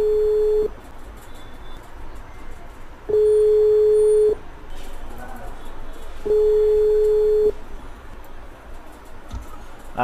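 Phone call ringback tone while placing a call, three long steady beeps spaced evenly a few seconds apart, with quiet background room noise between them.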